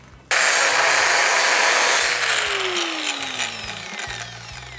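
An angle grinder cuts a bolt off the bare chassis of a 7.5 tonne truck being stripped for a camper conversion. It starts abruptly, loud and close, then grinds on steadily as its pitch shifts while the disc bites into the metal.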